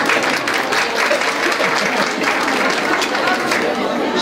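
Steady, continuous applause from a crowd of about 200 women at a breakfast gathering, dense clapping sustained evenly throughout, with some crowd murmur underneath.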